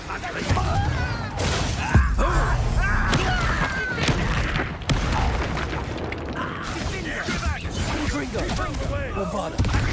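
Bombarda spell blasts in the video game Hogwarts Legacy during a battle, heavy booming explosions with debris crashes and whooshes layered over continuous combat noise, voices shouting and talking throughout.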